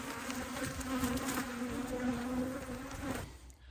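Dense, steady droning hum of many honey bees swarming around a disturbed hive box in a bee yard, loud and close, continuous until it fades sharply near the end.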